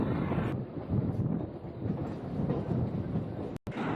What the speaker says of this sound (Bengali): গাড়িতে তেল ছিল না বলে আমি ট্রেনে করে যাচ্ছি